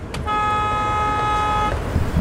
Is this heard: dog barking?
no